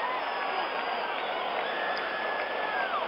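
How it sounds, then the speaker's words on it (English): Baseball stadium crowd at a 1977 World Series game between the Yankees and Dodgers, a steady distant roar of fans rising on a deep fly ball to right field, muffled and continuous. "For a moment, the crowd came up, but then Reggie Smith put up his hand, and the crowd sat down."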